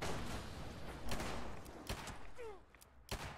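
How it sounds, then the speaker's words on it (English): Explosions and gunfire from a watched video of pipes, a dense rumbling barrage with several sharp bangs, heard at moderate loudness through playback. "Explosions."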